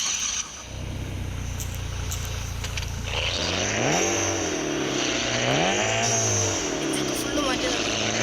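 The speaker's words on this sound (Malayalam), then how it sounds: "സോ നമ്മളുടെ സിവിക്കിൻ്റെ സൗണ്ട് കേൾപ്പിച്ചിട്ടാ" Upgraded, full-race Honda Civic engine in the Car Parking Multiplayer 2 video game revving up in rising and falling sweeps, loud and close, after a low steady idle.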